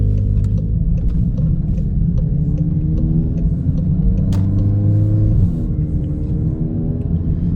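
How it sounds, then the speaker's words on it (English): Steady engine rumble from inside a car waiting on a single-lane stretch of road through construction while a truck drives past, with a continuous loud low drone and a gradual shift in pitch as the vehicle goes by. "got a truck coming towards me, so gotta wait for him. There he goes."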